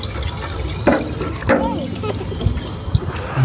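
Cold water running from a tap while water is fetched at a Sunday game in Germany, a close, continuous splashing hiss broken by a few knocks and drips, with voices around it.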